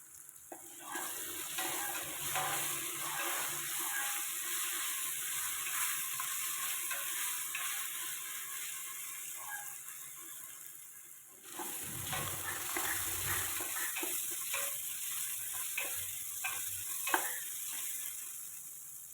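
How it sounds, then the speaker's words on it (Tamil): Crushed garlic sizzles with onion and tomato in a pan for a Tamil Pongal kuzhambu, a continuous close frying hiss with light stirring scrapes and a brief pause partway through. "வெங்காயம் தக்காளி வதங்கிடுச்சு இப்போது தட்டி வச்ச பூண்டை சேர்த்துக்கலாம்"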